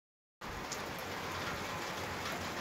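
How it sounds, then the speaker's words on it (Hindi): Steady rainfall outdoors during a sudden downpour, a constant soft hiss of drops on surfaces that starts abruptly after a moment of silence and continues evenly, faint and fairly distant, with no talk. "ये देखो बारिश"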